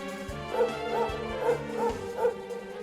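Dog yips and whimpers repeatedly in the Dragon Quest XI video game, five short rhythmic yelping calls over steady game music and sound effects, fairly close and moderately loud.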